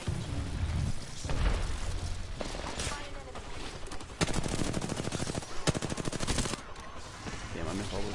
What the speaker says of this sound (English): Damn, I missed all those shots.